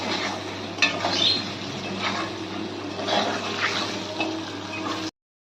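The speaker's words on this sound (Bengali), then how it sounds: "আমরা একটু হালকা করে ভাজা ভাজা করে নেবো আলুগুলোকে" Potatoes tossed with salt and turmeric fry lightly in a pan, giving a soft, steady sizzle with faint scrapes and stirring clicks throughout, no voices.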